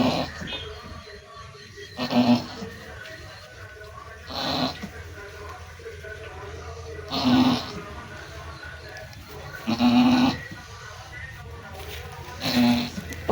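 A goat giving birth lets out a few strained bleats spaced a few seconds apart, moderately loud over a quiet room background with faint voices.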